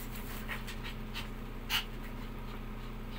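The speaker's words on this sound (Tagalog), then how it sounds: "Makulit yung aso ko." A dog pants softly and steadily in a room with a constant low hum, the breathing faint and continuous with one brief louder sound midway.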